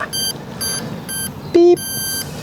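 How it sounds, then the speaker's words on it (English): Electronic beeps from the transmitter controls of a radio-controlled wingsuit glider: a series of short high-pitched tonal bleeps at a steady rhythm, plus one lower, louder beep, close and clear over faint background noise. "Beep."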